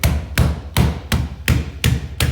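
Seven sharp, evenly spaced taps ring out as a rear window glass is seated into its rubber seal on a 1955 Chevy, each knock close, loud and alone.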